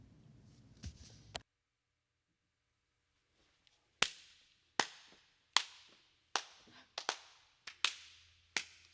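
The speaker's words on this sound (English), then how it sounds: "Slow clap." Slow, spaced claps ring out one at a time, about eight sharp, close-up hits at a steady unhurried pace after a brief burst of noise and a pause.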